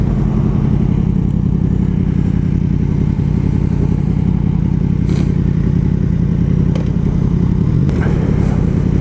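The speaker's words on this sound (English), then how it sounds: "It sounds pretty good with that Akrapovic exhaust." A Yamaha MT-10 motorcycle fitted with an Akrapovic exhaust rides along, a loud, close, continuous deep engine rumble with wind noise and no talking.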